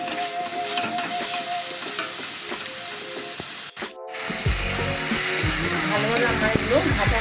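Spices and coconut fry over low heat in a pan, a steady close sizzle with stirring scrapes, briefly interrupted by a clatter before the frying grows fuller and louder.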